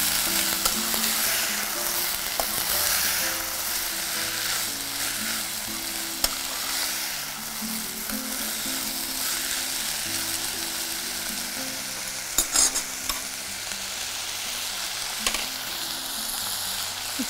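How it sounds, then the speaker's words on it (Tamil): Potatoes sauté in a hot pan with a steady, close sizzle that runs throughout, broken by occasional scrapes and clinks of a spoon stirring, with faint background music underneath. "கிழங்கை ஒரு வாட்டி வதக்கிக்கோங்க."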